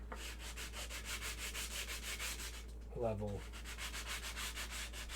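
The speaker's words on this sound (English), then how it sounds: "we're just going to sand it down. This is 220 grit fine sandpaper." Fine 220-grit sandpaper rubs back and forth over a Star Wars Tank Trooper costume part in quick, steady, close strokes, about a dozen of them, with one brief spoken word midway.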